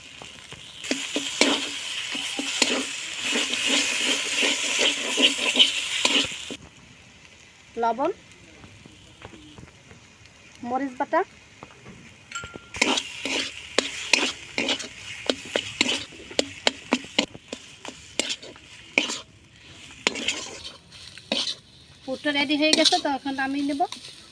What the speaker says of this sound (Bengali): নারকেলটা যে বেটে রেখেছিলাম আমি এটা ভেজে নেবো